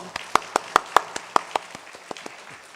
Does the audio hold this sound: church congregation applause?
yes